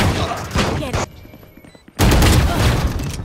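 Loud, close bursts of rapid gunfire from the Valorant video game, a dense fusillade of shots, then a brief lull and another heavy volley.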